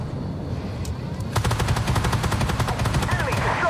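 Cannon fire from an AMX 40 prototype tank loading HEAT rounds in the video game Armored Warfare: after a quiet opening, a rapid, loud train of evenly spaced shots rattles on for over two seconds, with a few chirps near the end.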